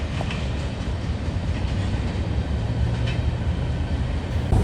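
A long CSX freight train rumbles steadily past at close range in Kent, Ohio, heavy low-frequency roar with faint wheel clatter throughout.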